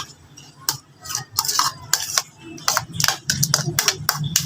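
Cat food stirred and mixed in a bowl for a mother cat and her kittens, with repeated short scraping clinks of a utensil against the dish in an irregular rhythm, close by and moderately loud, with faint background noise.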